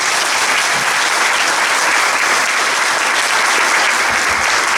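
An audience applauds performers at a live comedy show, loud dense clapping that holds steady and close from start to finish with no voices over it.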